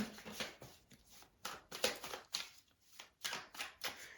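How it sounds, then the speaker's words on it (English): Quick riffling bursts of playing cards being shuffled, repeated several times at close range with short pauses between, no talking. "I'm going to shuffle again"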